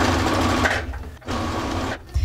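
A domestic sewing machine stitching a blouse hem, running in two steady, loud bursts with a brief pause between them, close and with no talking.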